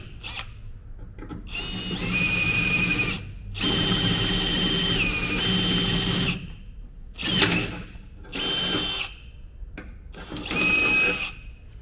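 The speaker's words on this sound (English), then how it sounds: "we're going to drill this out to 1/2 inch." A power drill bores a 1/2 inch hole through the rear fender of a Jeep Gladiator, whirring in several close, loud bursts of a few seconds each, separated by short pauses.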